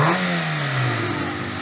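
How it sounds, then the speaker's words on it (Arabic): A Peugeot 206 petrol engine revs close by, its pitch sliding downward as it settles into a loud, steady mechanical drone. "هذايا موتور 206 جانا اخونا من الجزائر"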